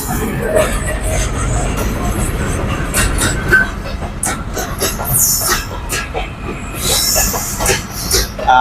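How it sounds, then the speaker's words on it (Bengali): A passenger train runs into Dhaka Airport railway station on the line from Kamalapur, its heavy rumble steady while sharp metallic wheel squeals and clattering hits rise over it, close and loud throughout. "আমার সামনে একটা ট্রেন আইতেছে দেখতে পাচ্ছেন রেল যাইতেছে বিমানবন্দর রেল স্টেশনে থামবে"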